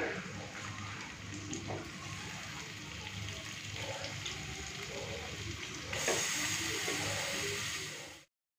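Chicken pieces added to a pan of hot oil with spices sizzle and crackle steadily for several seconds, close and moderately loud, with a brighter burst of frying hiss near the end before it cuts off.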